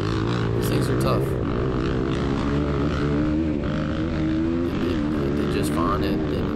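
Air-cooled Honda XR100 dirt bike engine droning steadily on a trail ride, loud and close with shifting pitch as the revs rise and fall, and a voice talking over it.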